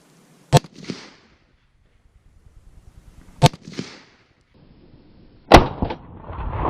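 Century Arms AK-47 rifle firing three sharp, loud single shots spaced a few seconds apart at an outdoor range, each crack followed by a short echo.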